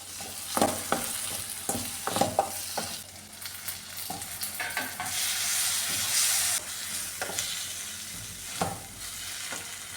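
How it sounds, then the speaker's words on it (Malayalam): Kerala-style moru curry with tomato is stirred in a pan over a low flame, with a steady sizzle and hiss under repeated scraping and clacking strokes of the spoon, close and fairly loud. "ഇനി ഇത് തുറന്ന് നോക്കി ഒന്ന് ഇളക്കി കൊടുക്കാമേ."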